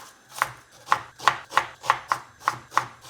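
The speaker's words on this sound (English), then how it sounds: "I need 2 onions, and I'm just going to roughly chop these." A knife roughly chops two onions on a board in eight crisp, evenly spaced cuts, close and clear with no talking.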